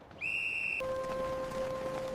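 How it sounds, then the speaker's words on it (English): A loud, sharp whistle blast echoing through army barracks, first high-pitched, then dropping to a lower steady tone that holds for over a second. "a loud whistle echoed through the barracks"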